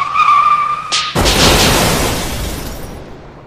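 In a video game, a truck slams into a car: a tire screech gives way to a sudden loud crash that booms and then rumbles as it fades out.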